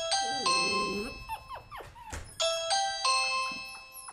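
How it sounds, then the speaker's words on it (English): A Ring doorbell chime rings twice, bright sustained tones with a pause between, while a dog whimpers and yelps in the background. "you could definitely hear the Ring doorbell chime ring"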